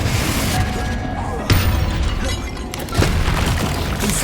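Booming spell explosions in Hogwarts Legacy combat, two sharp, loud blasts with shattering crash tails about a second and a half apart, set against busy in-game ambience.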